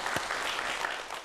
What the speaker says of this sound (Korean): 박수 주시기 바랍니다.